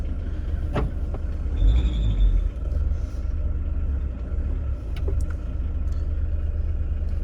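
The engine of a 1986 Volkswagen Transporter drop-side pickup with a rare 1.6L turbo diesel runs at a low, steady rumble close by, with a few faint clicks and knocks over it.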